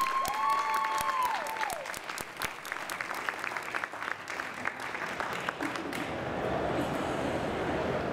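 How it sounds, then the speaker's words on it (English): An audience claps at an animal survivor award event, a dense burst of applause that fades and thins out toward the end, with brief high electronic tones near the start. "so we can give you a proper round of applause"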